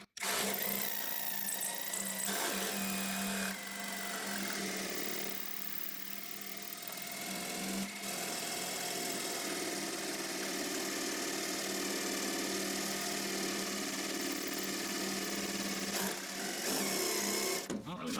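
Power drill bit grinding through a hard weld on a factory door hinge of a 1969 Dodge Charger R/T 440, a steady close whine with motor hum that runs almost unbroken, while people talk over it.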